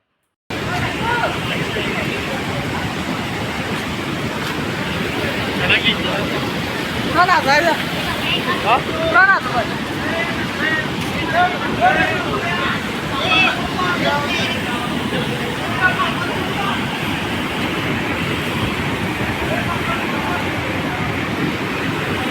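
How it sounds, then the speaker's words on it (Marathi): Strong water flow at Ramtirth in Ajara, Kolhapur makes a steady, loud rushing roar that runs without a break, with faint voices murmuring in the background. "हे बघा, पाण्याचा प्रवाह किती इथे जास्त आहे."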